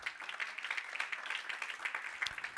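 A church congregation claps their hands in quick, uneven bursts, a moderately distant patter of many palms with no voices over it.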